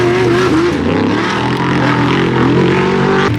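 Off-road vehicle engines roar at a Laguna Seca track day, a loud, continuous, droning race-engine note with wavering pitch, as if machines are circling and jumping nearby, with no talk over it.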